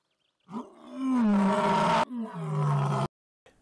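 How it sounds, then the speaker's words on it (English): A tiger gives two long, deep roars in a row, loud and close, with a short break between them and no other sound around them. "Now the tiger."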